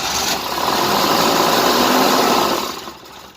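Starter cranking on a 1988 Tennant 255 Series II floor machine whose engine turns over without firing, apparently starved of fuel; a steady, loud whirring churn lasting under three seconds, then dropping away.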